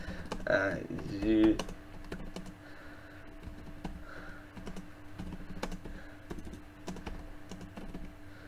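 A computer keyboard being typed on in a chat room during a live radio show, steady quick clicks in bursts at close range, with brief talk near the start.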